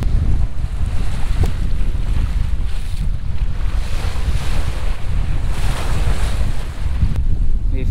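A sailboat cruising the Caribbean sea past the Grenadines, with a loud, constant rush of wind buffeting the microphone and waves washing against the hull, close and unbroken with no talk.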